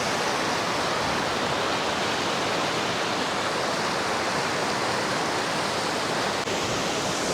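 Fast-flowing stream water rushing in Araku valley during monsoon, a steady broadband roar filling the scene, close and loud throughout with no voices.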